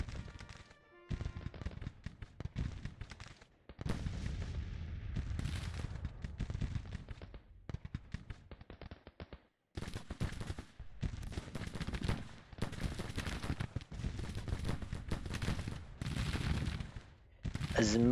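Troops firing in the video game Grand Tactician: The Civil War, heard as crackling volleys and scattered musket shots coming in bursts with brief gaps, some near and some distant, with a voice talking at times.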